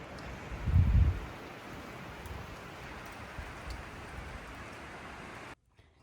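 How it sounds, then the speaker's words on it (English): Strong night windstorm buffeting a parked truck, a steady dense roar and rustle that holds throughout with a louder gust near the start, cutting out briefly near the end. "You guys hear that wind out there?"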